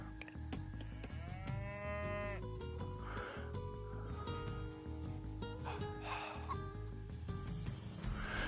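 Cows mooing in Age of Mythology, several drawn-out lowing calls layered over game background music and ambient effects, moderately loud and overlapping through most of the stretch.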